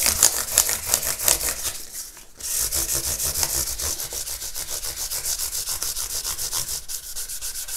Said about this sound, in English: we'll then move on to 1200 wet and dry, and again I'm just flicking that up and down the neck